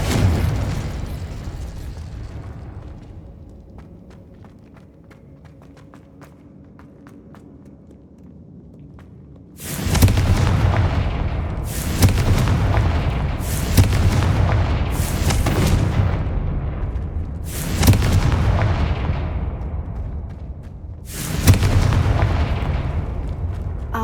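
Spell blasts from the fire charm Incendio and the explosive Confringo in the video game Hogwarts Legacy: after about ten seconds of quiet ambience, six loud booming bursts follow at irregular intervals, each with a rumbling decay.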